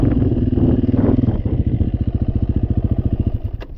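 A motorcycle engine runs loud and close during a rear-wheel wheelie demonstration, throbbing in a steady, fast pulsing beat with a brief sharp tick near the end.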